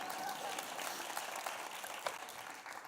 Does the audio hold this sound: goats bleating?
no